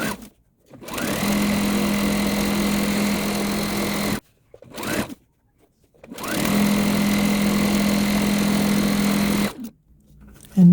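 An electric sewing machine whirs in two long, steady runs with a brief pause between them, stitching quilt strips cut from layer cakes, close and loud with no talk.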